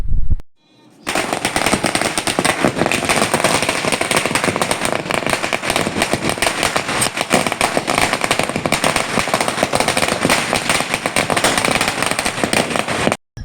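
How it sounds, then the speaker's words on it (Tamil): A long string of firecrackers bursts in rapid, crackling succession during Diwali celebrations. The pops are loud and close and run without pause for about twelve seconds. "பட்டாசு வெடிக்க ஆரம்பிச்சிட்டாங்க"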